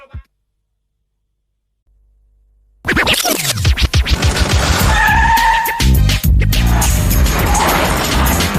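Car tires screech and skid in the Driver 2 video game, bursting in abruptly after near silence with loud squealing, scraping and crash-like impacts that continue to the end.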